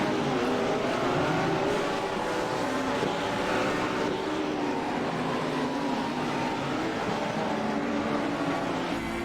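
A GT3 race car engine heard from onboard during a lap at Detroit, a loud continuous roar with steady harmonic drone and wind and road noise throughout, no talking.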